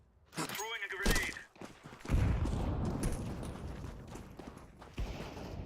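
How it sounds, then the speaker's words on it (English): A grenade lobbed during a Counter-Strike 2 match, a sharp thunk followed by a loud burst of gunfire and clattering impacts that carry on through the rest of the moment, with a voice speaking briefly near the start. "Throwing a grenade."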